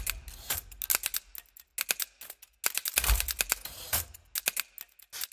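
Typewriter from a Fast Sound Tools sample library: crisp mechanical key strikes in irregular bursts, clacking close and dry, with a heavier thunk like a carriage return partway through and short pauses between runs.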